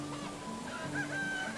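Chickens wandering around a farmstead in the Medieval Dynasty video game give soft clucks and calls, steady and moderately faint against a continuous ambient game background with no talking.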